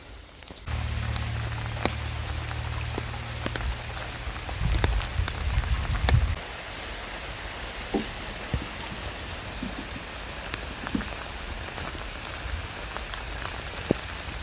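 Heavy rain patters steadily with scattered sharp drips and taps, a low rumbling thud rising briefly in the first half.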